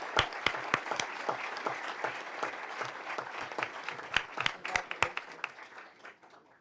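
An audience at a school board meeting applauds a scholarship award recipient, a sustained round of clapping with individual sharp claps standing out, gradually fading toward the end.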